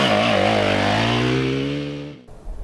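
A dirt bike engine hums with harmonic drone as the clutch is let out with a little gas, the pitch easing gradually before the engine note cuts off abruptly near the end, followed by faint low rumble.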